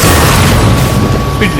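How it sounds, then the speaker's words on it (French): A deep, loud explosion booms and rumbles through the whole moment in the video game The Darkness II, with a voice talking over the blast. "j'adore quand ça explose"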